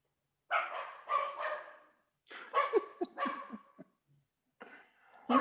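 Excited barking from pet dogs reacting to a passing delivery truck, coming in several bursts of rapid, fairly close barks separated by short pauses, with no talk over them.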